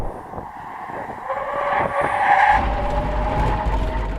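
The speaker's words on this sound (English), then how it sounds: "Now we're going to do a brake test from 70 miles an hour." A Tesla Cybertruck and a Hummer EV brake hard from 70 mph, tires squealing briefly over a rising road rumble that swells and holds near the end.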